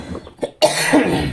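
A single person coughs sharply, close and fairly loud, with a rough, throaty burst that trails off after a brief quieter lead-in.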